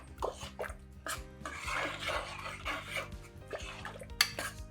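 Sambar rice, a South Indian dish of cooked rice mixed with dal and water, being stirred in a cooking pot, with soft scraping and clinking of a spoon against the metal in an irregular rhythm, close and fairly quiet.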